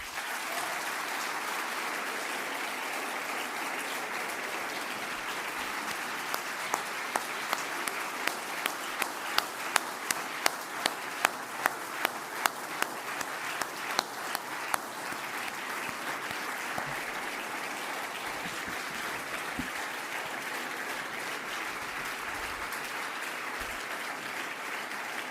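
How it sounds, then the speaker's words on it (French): A large crowd at a left-wing political rally in Paris applauds steadily for a long stretch, dense clapping that swells with a run of louder, sharper claps in the middle before settling back into a broad wash. "je vous propose de l'applaudir"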